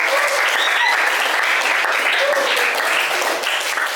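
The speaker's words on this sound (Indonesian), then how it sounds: "Kita berikan tepuk tangan kepada kelompok penyaji." A room full of students claps for a presenting group after a classroom talk on logarithms, steady dense applause that holds evenly for a few seconds with no voices standing out.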